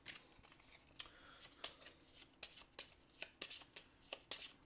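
A deck of cards for The Edge: Dawnfall board game shuffled by hand, about a dozen distinct crisp riffle snaps in an uneven rhythm, close and fairly quiet, with no voices.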